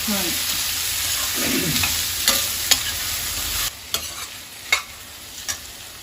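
Four large sliced onions sizzle in a pan with a steady hiss, while a spoon stirs them with soft scraping and several sharp metallic taps against the pan.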